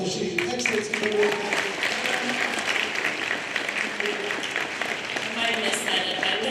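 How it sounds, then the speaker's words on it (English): At a senior awards night, a crowd claps warmly for a student leaving the stage, a full, continuous burst of applause that holds steady throughout. "So one more round of applause as she exits the board."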